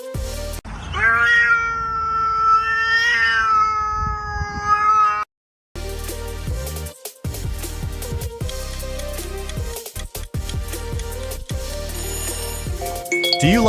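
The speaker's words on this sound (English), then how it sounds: "Do you like listening to a cat meow?" A cat gives a long, drawn-out meow with a wavering pitch, loud and close, then a different electronic ringing tone follows for the rest of the time.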